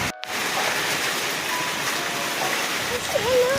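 Heavy rain pours steadily during the Vaishno Devi pilgrimage, a dense, loud hiss filling the scene without pause after a brief silent gap at the start.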